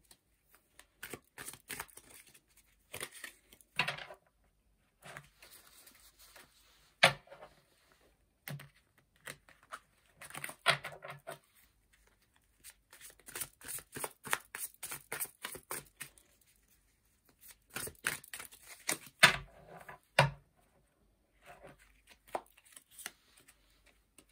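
Tarot cards being shuffled by hand before a love reading, with quick riffling bursts and soft card taps in irregular clusters, fairly close and alone without talk.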